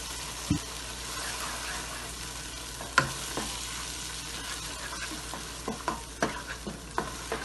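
Masala for qeema kachnaar is being fried and stirred in a pan: a low, steady sizzle with a few sharp spoon knocks and a cluster of scraping strokes toward the end.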